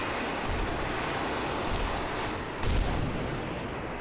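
Bolter guns and hotshot lasguns firing at an aircraft in a video game: a dense, continuous roar of battle noise with a heavier boom partway through, steady and loud throughout.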